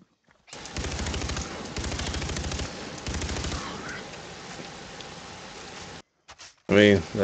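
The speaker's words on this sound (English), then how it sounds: "I feel weird hunting with, like, a machine gun" Sustained bursts of automatic machine-gun fire in the game Far Cry 3, loud and close, in several long volleys that trail off into quieter action sounds and a brief voice near the end.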